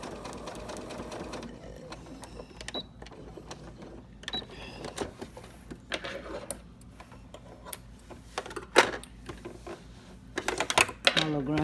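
A quilting machine stitches a quilt in a rapid, ticking mechanical patter that comes and goes in bursts, close by, while a person talks over it at times.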